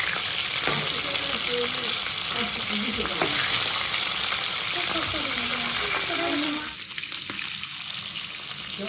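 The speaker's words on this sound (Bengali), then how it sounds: "ইলিশ মাছের মাথাটা ভাজা হয়ে গেছে" A hilsa fish head fries in a pan with a steady, loud sizzle and crackle, stirred now and then, and the spatter drops back a little near the end.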